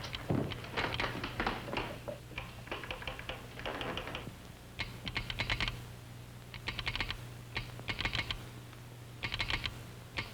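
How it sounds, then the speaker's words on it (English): Telegraph keys in an Old West office tap out a message in quick bursts of sharp clicks, separated by short pauses over a steady low hum. "Those telegraph keys were reading out the words Big 50"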